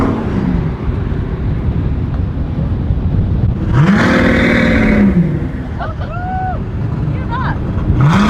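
Maybach Exelero engine revving on a private airport strip, a steady loud rumble with a couple of sharp rising revs in the middle and near the end, heard up close beneath speech.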